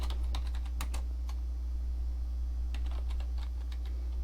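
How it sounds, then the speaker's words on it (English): Typing on a computer keyboard, a quiet run of irregular key clicks in two short bursts over a steady low hum. "I'm going to type in my name"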